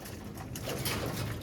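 Racing pigeons coo softly, a faint, brief bit of low bird calls over a quiet background, with no voices.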